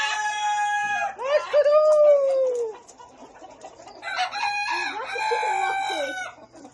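Chickens cluck and a rooster crows loudly close by, several overlapping calls and crows in bursts with a brief lull in the middle, in a farmyard setting.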